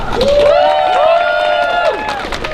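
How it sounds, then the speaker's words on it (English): Crowd cheering and applause at a campus speaking event, loud and continuous with a shrill sustained voice or whistle-like tone rising and falling over the noise, under a steady crowd roar. "So give a round of applause for Noura"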